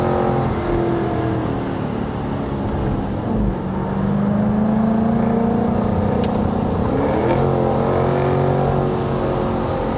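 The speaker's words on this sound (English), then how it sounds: "There's something about these European V8s that the American V8s don't have." A deep, throaty 2024 Jaguar F-Type 75 P450 convertible V8 engine rumbles steadily, its pitch rising as it revs and accelerates, loud and close with no talking.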